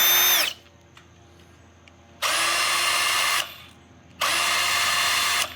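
A Ridgid 18V subcompact brushless 1/2-inch hammer drill/driver whirs in three loud, steady runs of one to two seconds each, separated by quiet pauses, close to the listener.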